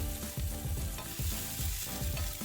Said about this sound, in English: you just fry your slices of mushroom. I use shiitake mushroom here